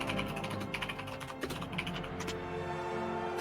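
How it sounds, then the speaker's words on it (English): Rapid computer keyboard typing during a tabletop Dungeons and Dragons game session, a steady busy clatter of keys running continuously and fairly close, with other background sounds mixed in. "what are you typing, a book?"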